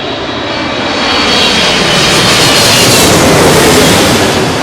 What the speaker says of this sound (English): Got the British Airways Boeing 777